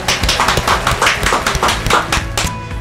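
Brisk, dense clapping from a small group at a hospital lab talk show. The claps run steadily and close by for about three seconds, with no talk over them.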